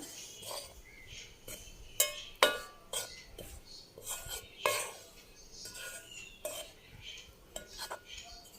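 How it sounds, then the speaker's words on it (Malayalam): Wheat flour is stirred in a metal bowl with crushed cardamom and salt, giving a run of clinking, scraping spoon-on-bowl strokes in an irregular rhythm, close and moderately loud. "ഉപ്പും ഇട്ടിട്ട് നമുക്ക് ഇളക്കി നല്ലതുപോലെ യോജിപ്പിച്ചെടുക്കാം."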